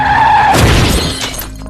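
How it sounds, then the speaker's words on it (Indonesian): Two cars collide after one veers while driving: a loud crash bursts in with shattering and scraping debris, following a brief tonal whine, then tapers into rattling settling noise. "Mobil mereka pun bertabrakan dengan mobil lain."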